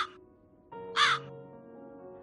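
A crow caws twice, a short call followed by a louder, harsher one, clear and close over a soft sustained musical backing.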